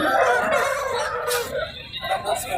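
A two-year-old rooster crows at a rooster market in Kunnathur, Tirupur, a drawn-out call amid the busy din of other fowl and murmuring voices nearby.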